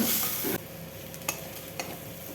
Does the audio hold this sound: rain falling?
no